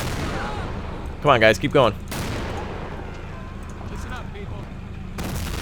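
Mortar blasts and gunfire in Men of War: Assault Squad during a 1946 Japanese mainland invasion, heard as a rumbling bed of distant shelling and shots. Someone speaks briefly partway through.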